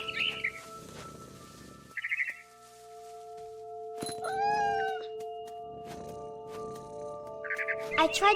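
Cat sounds in the video game What Remains of Edith Finch: a few brief mews and one rising meow-like call in the middle, set against a sustained musical drone with bird chirps at the edges.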